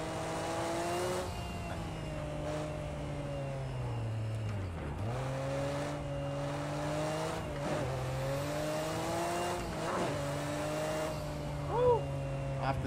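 Racing video game engine of a 600 horsepower GTR on the Nürburgring, a steady high whine rising and falling through gear changes and braking dips, with a brief tire squeal near the end.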